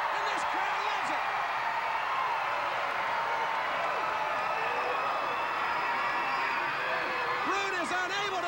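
A pro wrestling arena crowd roars and cheers steadily as a champion is held in a Scorpion Deathlock submission hold, a dense continuous wall of crowd noise with a commentator talking over it.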